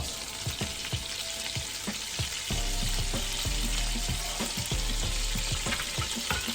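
Shrimp fry in melted butter with a loud, constant sizzle and crackle, close up. Irregular pops and stirring scrapes run through the hiss, and the frying swells when the pan fills partway through.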